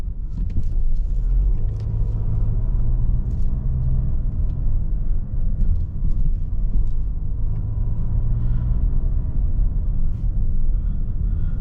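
An Audi Q3 diesel car driving, heard from inside as a steady low engine rumble and road noise that holds level throughout, with no talking.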